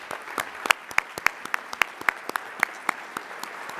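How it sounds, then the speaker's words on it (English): Audience applause at an awards dinner: a small crowd claps in sharp, separate, uneven slaps, fairly close and sparse, with no voices over it. "Please give them a round of applause."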